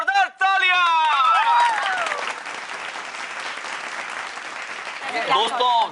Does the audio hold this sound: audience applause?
yes